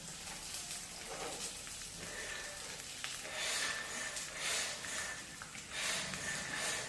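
Onions sizzling and frying in hot oil in a pan, a steady crackling hiss that swells and eases, with occasional stirring, close and moderately loud with no talk.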